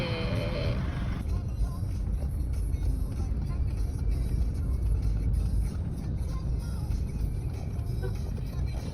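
Steady road traffic in the Philippines with cars passing, a dense continuous rumble of engines close by, filling the whole stretch without letting up.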